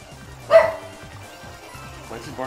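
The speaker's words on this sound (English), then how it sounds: "Why is he barking at nothing?" One sharp, close bark from a game dog in Super Mario Odyssey stands out over quiet game background sound, and a short rustle follows near the end.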